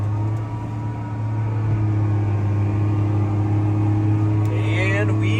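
A tractor fitted with a SmartProbe soil compaction system runs in a field, its engine a loud, steady, close drone with a deep hum that holds level throughout.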